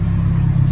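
Nissan 240SX engine revving hard with one tire spinning, a loud, close, steady low mechanical roar held briefly with no speech.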